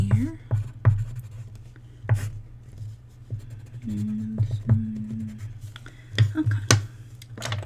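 Pen writing notes in a doctor roleplay setting: soft, close scratching strokes in short irregular bursts over a low steady hum, with quiet talking now and then.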